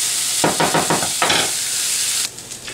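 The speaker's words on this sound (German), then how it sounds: "Ich muss nur ganz kurz anrühren." Onion frying in a pot for a spicy chicken soup, a steady close sizzle broken by a quick series of scraping stirs, then a quieter hiss after the stirring stops.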